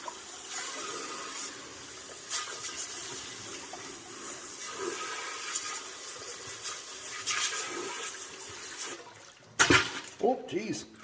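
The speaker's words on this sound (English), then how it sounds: "My darn hose sprung a leak on me right at the beginning here." Water sprays steadily from a leaking garden hose during a rock tumbler washout, a constant hissing wash under a person's voice, ending with louder splashes and clatter.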